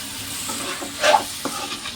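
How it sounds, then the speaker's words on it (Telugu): A spoon stirs chamagadda (taro) curry with egg, dry prawns and chilli powder in a pan, giving a soft continuous sizzle with a brief louder scrape partway through. "చక్కగా ఈ కారం వేసాను కదా, మొత్తం ఇలా కూర కలిసేలాగా తిప్పేసేసేయాలి"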